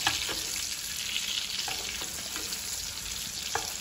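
Steak sizzling loudly in a pan, a dense steady crackle with periodic soft splashes as hot fat is spooned over it.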